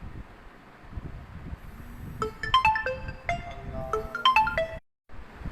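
A mobile phone ringtone plays a bright electronic melody in two short bursts during a math class, heard alone and fairly loud before cutting off abruptly.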